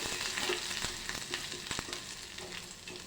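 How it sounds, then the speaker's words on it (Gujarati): Ginger and finely chopped garlic sauté in hot oil for manchow soup, a soft steady sizzle with repeated light scrapes and taps of stirring. "તેલ ગરમ થાય એટલે આપણે જે આ આદુ અને ઝીણું લસણ સમારેલું છે તે લઈ લઈશું આપણે બરાબર તેને સાતળી લઈશું"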